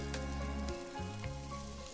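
Tomato goes into a hot pan already frying ginger and curry leaves, bringing a steady close sizzle with a brief dip and crackle as the pieces land, and no voices.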